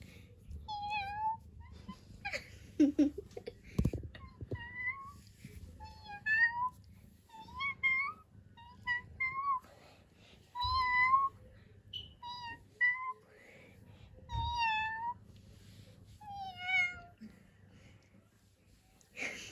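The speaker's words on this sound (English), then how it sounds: "You're going to say meow." A chubby young cat of about ten months meows repeatedly in bright, rising calls spread across the clip, close and fairly loud, with a person talking softly and coaxing in between.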